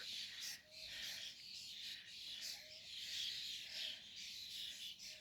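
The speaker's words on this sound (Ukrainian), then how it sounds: "Дивіться, скільки пташок." Many small birds chirping and twittering outdoors in spring, a dense continuous chorus of high calls at moderate distance, steady throughout with faint background noise.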